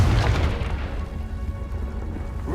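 Confringo blasting spell in Hogwarts Legacy, a deep booming explosion at the start that fades into a low rumbling tail.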